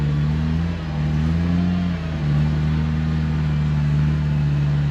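Engine of a stuck Jeep revving under gas while winching, a loud close steady drone that dips briefly and then holds a slightly higher pitch, alone without speech.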